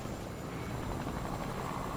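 A video game helicopter drones with a steady, loud rotor and engine roar, unbroken and with no voices over it.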